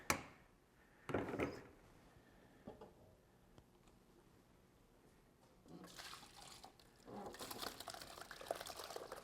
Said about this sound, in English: Add another quart of water in there to cool it down